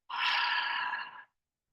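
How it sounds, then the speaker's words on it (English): A single long open-mouth exhale during a breathing exercise, a soft, airy, breathy rush lasting just over a second, close and isolated, ending abruptly into silence. "Open mouth, exhale."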